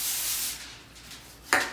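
A steady hiss of cooking spray onto aluminum foil for about half a second, then quiet, followed by a brief crinkle or tap.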